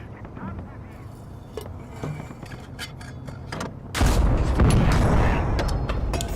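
A KV-1 tank cannon fires in the Call to Arms - Gates of Hell: Ostfront war game, a sudden loud, heavy blast that cuts in midway and rumbles on, following quieter battle noise with scattered distant thuds.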